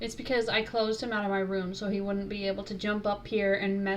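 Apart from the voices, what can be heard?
None of the usual background noises is heard.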